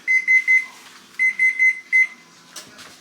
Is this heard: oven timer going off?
yes